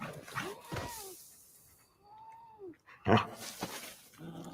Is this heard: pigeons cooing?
no